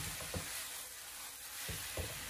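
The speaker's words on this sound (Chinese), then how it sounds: "给它来上些许的明油，然后再给它翻炒4、5下，将它翻炒均匀就差不多了" King oyster mushrooms are stir-fried in a wok with a little finishing oil, giving a dense, steady sizzle broken by a few low thumps as the spatula tosses them.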